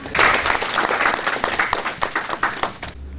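A crowd applauds steadily, dense clapping that tapers toward the end and stops abruptly.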